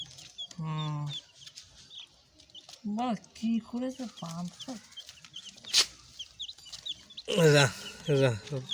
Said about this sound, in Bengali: এই দেখো মুরগি গুনে রেখে দিলে